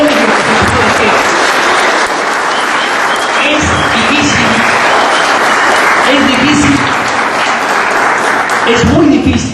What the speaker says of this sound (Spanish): yo me permito ahora pedir un fuerte aplauso para ustedes